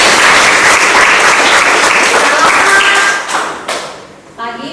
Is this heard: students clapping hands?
yes